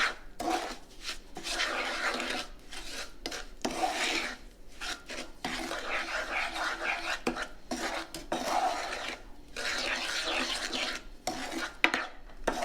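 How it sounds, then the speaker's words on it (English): Granulated sugar is stirred into melted butter in a pot: a steady gritty scraping and rasping of a utensil against the pot, repeating in uneven strokes for the whole stretch with no talking. "I'm going to add the granulated sugar and mix it well"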